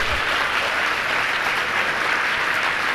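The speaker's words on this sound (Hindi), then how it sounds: "बजाओ ताली" A large audience at a Jain religious discourse claps together in steady, dense applause that fills the whole stretch loudly, with no pauses or talk over it.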